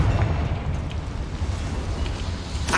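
A Confringo fire spell blast in the game Hogwarts Legacy: a loud, roaring low rumble of flame and explosion held throughout, close and without talk, with a brief brighter burst at the very end.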